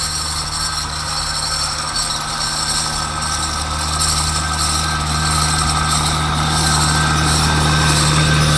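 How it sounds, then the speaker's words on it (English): A skidder engine runs steadily nearby, a continuous low diesel rumble with an idling character that holds at a constant, fairly loud level throughout, with no talking. "Here comes a skidder."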